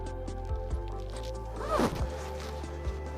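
A zipper runs up a puffy down mountaineering belay parka in one quick pull, close and clear, with faint rustling of the fabric and soft thumps around it.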